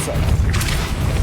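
Depulso spell impact in Hogwarts Legacy: a dull magical boom with a brief bright burst midway, over a steady low game rumble.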